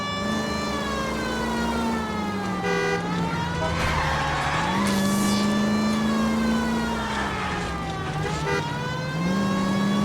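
Car engine roaring in a police car chase in the video game L.A. Noire, loud and sustained with revs rising and falling, a wailing siren and brief tire skids mixed in, no talking.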